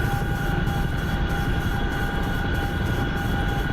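Steady, continuous rotor and engine drone of a Chinook twin-rotor helicopter flying in a video game, a dense broadband rumble with a sustained whine, constant and loud throughout with no talk.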